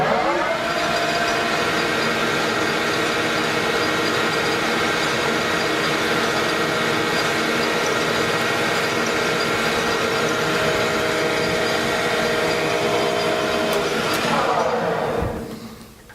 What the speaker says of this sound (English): I want you to watch me as I operate the hand wheel